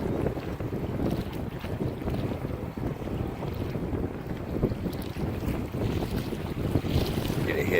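A small RC bait boat runs across choppy water in roughly 15 mph wind, its faint motor hum buried under steady gusting wind noise on the microphone and lapping waves throughout.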